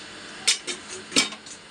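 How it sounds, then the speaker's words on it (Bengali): A cooked pot of food being covered with a lid in a home kitchen, two or three quiet metallic clinks and scrapes close by, with soft rustling between them. "এখন এটা ঢেকে রাখি"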